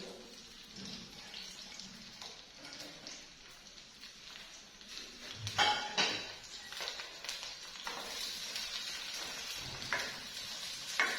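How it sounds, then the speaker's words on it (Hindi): Onions fry in oil in a pan for a minced-meat and capsicum (qeema shimla mirch) dish, making a soft, continuous sizzle and crackle that stays fairly faint throughout, with no speech over it. "प्याज को हम अच्छे से भून लेंगे।"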